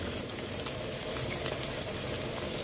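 Two eggs fry in a pan while cooking fried rice, a steady close crackling sizzle with small pops scattered throughout and no talking.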